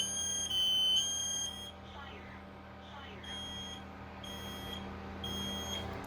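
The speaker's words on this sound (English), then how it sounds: "so now all of these are now initiating alarm" Several Kidde smoke alarms on a test board shriek with piercing high beeps, overlapping in bursts with brief gaps, while a voice speaks faintly underneath.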